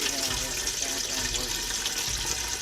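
Water splashes and pours steadily into a container at a men's camping trip, a close, continuous wash of liquid with a voice speaking faintly underneath.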